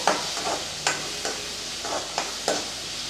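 Tomatoes sauté in a pan for a brinjal curry, with a steady soft sizzle broken by several rhythmic scraping stirs of a spoon, close up and without speech.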